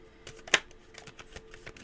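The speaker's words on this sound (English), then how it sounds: "Let me shuffle these cards here." A deck of cards is shuffled by hand, giving faint, quick flutters and soft ticks with one sharper snap near the start, close and quiet.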